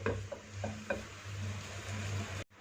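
Chicken filling cooks in a pan on medium heat, a soft steady sizzle with a few light scrapes and taps of a spoon stirring, ending in a brief cut to silence.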